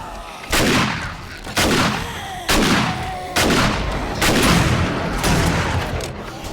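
Five or six loud, heavy gunshots from the 7 Days to Die video game crack out at roughly one-second intervals, each with a booming decay that fills the gap before the next.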